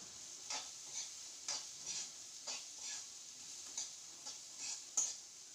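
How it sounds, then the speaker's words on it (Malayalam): Chopped cabbage with turmeric being stirred as it fries in hot oil: a steady faint sizzle with regular spoon scrapes and clicks against the pan, roughly twice a second, no voices. "നമ്മൾ ചോപ്പ് ചെയ്ത് വെച്ചിരിക്കുന്ന ക്യാബേജ് ഇതിലേക്ക് ചേർത്ത് കൊടുത്ത് നന്നായിട്ടൊന്ന് ഇളക്കാം"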